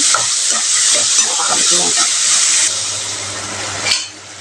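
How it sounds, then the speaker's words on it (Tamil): Tomatoes cook in a hot pan for a drumstick kara kuzhambu, a close, steady sizzling hiss broken by soft spoon scrapes and stirring knocks, easing off toward the end. "நல்லா மிக்ஸ் பண்ணி தக்காளி நல்லா மசிஞ்சு வரணுங்க"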